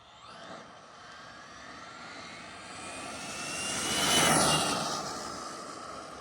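A Traxxas XO-1 RC car fitted with a 20-tooth pinion, its high electric whine swelling as it speeds past and then fading away, a single steady pass with no talking.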